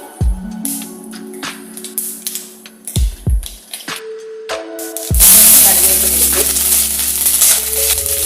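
Mustard seeds splutter in oil left over from frying prawns. Scattered clicks and faint hum come first, then a loud, steady hissing sizzle with crackle sets in and carries on to the end.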